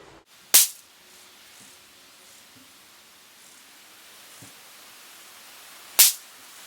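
Two sharp, loud suppressed rifle shots about five seconds apart, fired while zeroing a scope on a range, each a brief crack with a short fading tail and quiet between.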